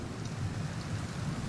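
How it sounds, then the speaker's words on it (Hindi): Heavy rain in a movie scene, a steady low, dense wash of downpour with a faint rumble underneath, continuous and fairly quiet with no talk. "ऐसे कई जगह हैं जहाँ पर इस सीजन में भी भारी बारिश होती है।"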